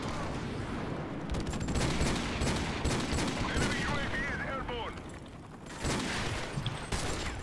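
Video game gunfire in an online shooter, a loud sustained barrage of rapid shots and bursts layered over each other, nearly continuous with a brief dip, while players talk excitedly over it.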